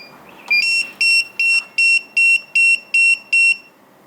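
A TD162 paging system pager set to sound only, without vibration, lets out eight evenly spaced, shrill electronic beeps, loud and close in an otherwise quiet room.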